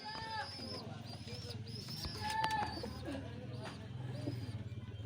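Pigeons coo close by at a bird sale, with Royal Teddy, golden and other fancy breeds present, giving repeated low rolling coos over soft background chatter, while a person talks nearby.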